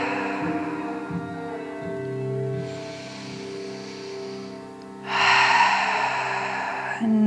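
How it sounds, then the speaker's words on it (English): A slow, deep breath drawn in through the nose, then a long, airy releasing exhale, close and soft over quiet background music. "Take a deep inhale through the nose and a deep releasing exhale as you empty out completely"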